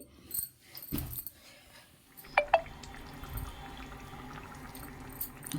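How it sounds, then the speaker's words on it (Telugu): Water, about 400 ml, poured into a pot of mutton curry, with a liquid splashing and pouring sound after a couple of clinks, then a steady trickle continuing close by. "నేనైతే ఫోర్ హండ్రెడ్ ఎంఎల్ వాటర్ వేసుకుంటున్నాను"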